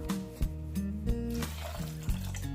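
Water pours into a cooking pot holding chickpeas and potatoes, a soft liquid splash and trickle mixed with a few light clanks, heard behind a steady background tone.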